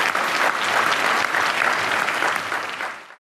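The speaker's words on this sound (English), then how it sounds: "Let's give them another round of applause." Applause from a large audience at a climate change conference in Washington, D.C., honoring young performers from Mongolia; steady, dense clapping that holds evenly for about three seconds and then cuts off abruptly.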